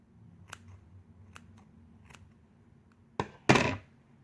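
Scissors snip and trim fuzzy yarn for a puff ball, a few faint cuts followed by two louder, closer snips near the end, with no talk.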